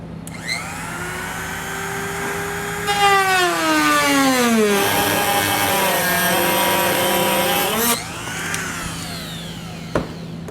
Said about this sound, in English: we're going to take a Dremel tool and we're going to remove that material